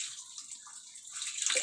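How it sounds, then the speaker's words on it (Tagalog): Water pours briefly into a cooking pot of tambakol (yellowfin tuna) being prepared, a close, soft trickle that swells into a louder splash near the end, with no voices. "lagyan natin ng konting tubig"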